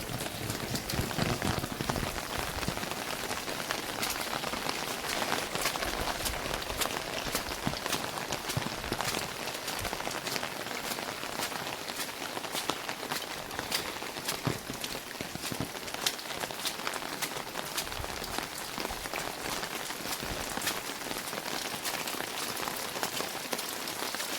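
Heavy monsoon rain pours down on a Konkan village near Ambavali. The hiss of dense drops hitting surfaces is steady and continuous throughout, with no voices.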